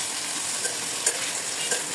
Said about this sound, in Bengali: তারপর কুচি করা পেঁয়াজগুলো দিয়ে দিব। এরপর ভাজতে থাকবো।